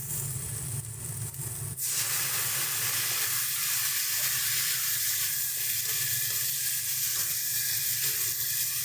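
Chopped tomatoes hit a pan of hot oil for a Bengali river fish curry, bursting into a loud, steady sizzle that starts with a sharp jump and keeps crackling and hissing close up without pause.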